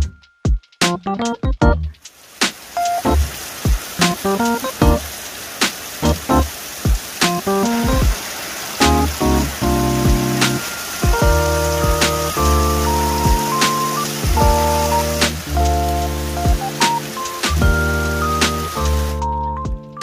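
Water sprayed over stones and soil to compact the ground, a continuous splashing hiss heard under background music with sharp plucked notes.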